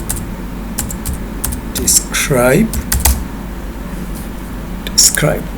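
Keys clatter on a computer keyboard while a do file is written in Stata, a quick close run of clicks in short bursts with pauses, mixed with soft speech.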